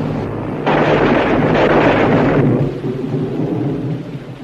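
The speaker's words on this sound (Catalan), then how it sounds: "La tempesta." A thunderstorm roars with a heavy, sustained rumble of thunder and dense rain, swelling loudly for a couple of seconds before easing into a softer wash of rain and wind noise.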